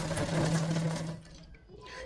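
A sewing machine whirs steadily while attaching a sleeve to a suit, loud for about a second before stopping, followed by faint handling noise.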